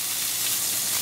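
Ginger sizzles in a hot pot that previously held paneer, while palak paneer is being cooked, giving a steady, close frying hiss with no talking.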